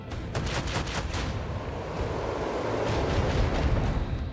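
Ship guns firing in Rogue Trader during a battle against Chaos ships: a quick run of sharp repeated shots, then a heavy rolling rumble of explosions that builds and holds, loud and alone.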